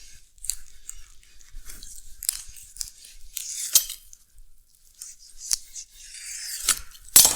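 A knife slices the skirt off a rack of pork spare ribs, giving scattered close scraping and crisp cutting sounds, irregular and fairly quiet, with a sharper crunch near the end.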